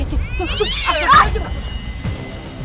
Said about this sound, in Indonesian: Dikirain tuyul, nggak taunya kucing.